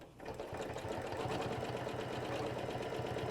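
A sewing machine sews along a ruler template in one continuous, close, rhythmic chatter that starts at once and keeps a steady pace throughout.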